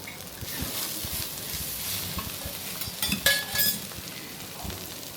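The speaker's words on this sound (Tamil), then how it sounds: "அது மசாலா அது போட்டு கொஞ்சம் லைட்டாக கிளறி விட்டு கறியும் அப்படி உள்ள வைக்கணும்" A spoon stirs masala and chicken for a coconut chicken curry in a sizzling pot, with steady frying hiss, scraping strokes and a few metallic clinks from close by.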